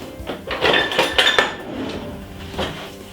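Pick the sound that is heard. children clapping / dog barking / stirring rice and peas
stirring rice and peas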